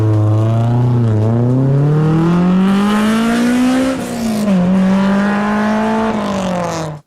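A Honda S2000 engine revs hard toward nearly 9,000 RPM, a loud continuous wail climbing in pitch, dipping briefly, then surging again before cutting off abruptly.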